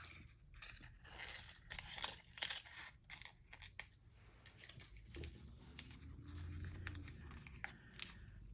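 Scissors snip through paper in a quick run of crisp cuts and rustles, followed by softer crinkling and handling of the sheet, close and fairly quiet with no talking.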